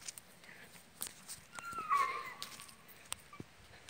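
Faint, high-pitched whimpers and soft whines from a young dog, brief and intermittent over quiet background with light shuffling.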